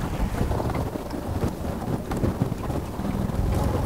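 Strong wind buffets the microphone amid rough, rushing sea waves, a loud continuous roar with no speech.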